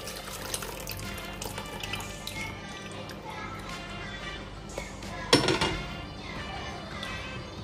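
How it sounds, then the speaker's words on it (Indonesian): Soaked tamarind water poured into a cooking pot for Sumbawa-style singang yellow fish soup: a soft watery trickle and drip, then a brief louder splash near the end over steady kitchen background. "sekarang kita bisa masukkan air asam yang sudah kita"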